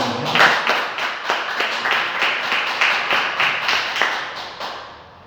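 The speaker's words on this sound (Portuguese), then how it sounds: "Recebe o nome de Deus com palmas bem alegres para Deus." A church congregation at a Thursday service claps in a steady, rhythmic beat, loud and close, with roughly two claps per second throughout and a brief fade at the end.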